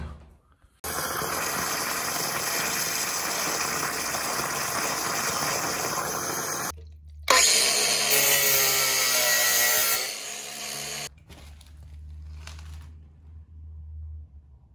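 A power saw grinds loudly through a copper water pipe, cutting out a leaking fitting in two long continuous bursts, the second harsher and higher, then cuts off into near silence.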